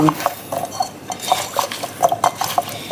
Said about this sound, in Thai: แล้วเราก็คลุกเคล้านะทุกคน ให้เกลือมันแบบ อยู่ในนี้ทุกอนู